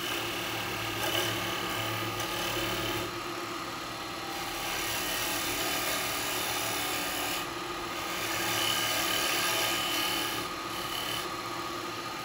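A wood lathe turning a wet eucalyptus blank into a cowboy hat, cutting away bark and tenon: a steady, continuous whirring rasp with a faint high whine, holding an even level throughout with no talking.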